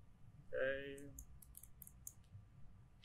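A computer mouse double-clicks during CAD pattern-making software work, two faint, sharp clicks in quick succession near the end, following a brief tone and some light tapping in a quiet room.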